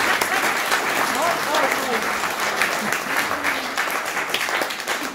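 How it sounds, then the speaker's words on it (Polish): An audience at a benefit evening celebrating a writer's 45 years of creative work bursts into sustained, dense applause that fills the room, steady and loud before slowly thinning, with a voice briefly heard over it. "Może brawa jakieś, co tak?"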